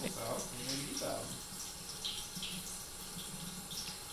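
Water running steadily from a kitchen tap into a sink during dishwashing, a moderate continuous splash with faint higher trickles, while a cat laps at the stream.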